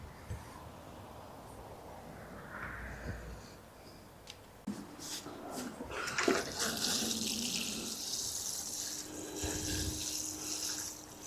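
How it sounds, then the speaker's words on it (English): Water runs from a tap into a container. The flow starts quietly, then grows to a louder, steady close-up gush with some splashing. "And I'm just going to get some water."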